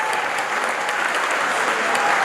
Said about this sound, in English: I think we have a round of applause for Peter Wilson.